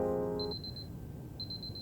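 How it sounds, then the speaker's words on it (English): Alarm in the game Superliminal, two quick bursts of rapid high electronic beeps, each about half a second long, separated by a brief pause over soft background music. "And then we hear an alarm."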